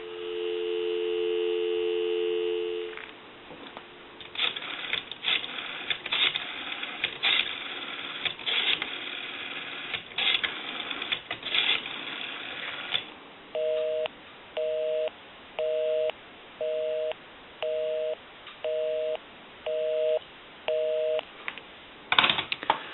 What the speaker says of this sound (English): We can call my number, and it'll be busy. Give you some dial tone.